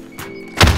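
A grenade blast in a first-person military shooter, a single heavy thud near the end of the clip following a quieter lead-in with faint background game noise.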